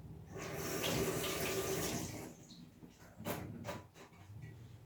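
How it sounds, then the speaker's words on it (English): A tap runs steadily for about two seconds as carrots are washed under it. The flow then stops, and brief rubbing and splashing sounds follow, close and fairly quiet. "I'm going to just do the carrot the same way, just like that, and I'm going to just quickly wash them"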